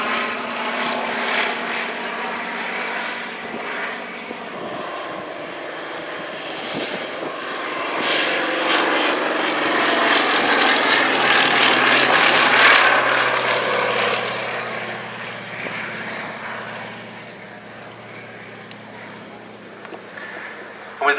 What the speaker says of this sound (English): Swordfish gets airborne.